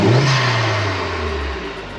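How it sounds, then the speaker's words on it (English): An Audi TT Mk1 fitted with a new large intercooler revs hard once, a loud close engine note climbing and then slowly falling back over about two seconds, with no talking. "So I'll just give it a rev for you now."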